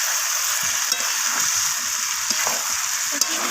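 Chicken and spice masala with sugar fries in a pot while being stirred, a dense, even sizzle with a few soft spoon scrapes and taps, close and steady.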